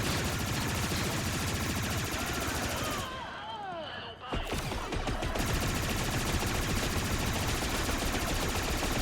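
Star Wars Outlaws video game weapon fire: loud, sustained rapid automatic shooting that pauses briefly for about a second with zapping sounds, then resumes just as dense and continuous.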